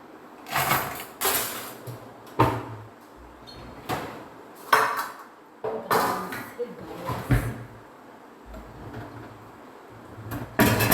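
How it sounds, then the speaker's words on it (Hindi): Steel utensils and dishes being set in place in a home kitchen, a series of sharp clanks, clinks and scrapes at irregular intervals close to the microphone, with someone speaking between them. "सोच रहे हैं कि बर्तन बनने की आवाज़ आ रही है"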